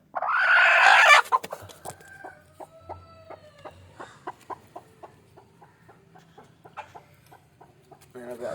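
Free-range native chickens cluck in a steady string of short, sharp calls, close by, after a brief burst of harsher noise at the start; a rooster crow is mixed in.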